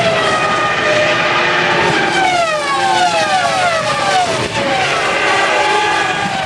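Formula 1 cars from the 2002 season, a Ferrari and a Williams, racing past with high-pitched screaming engines whose pitch sweeps up and down through gear changes, loud and close, with commentary-style talk faintly underneath.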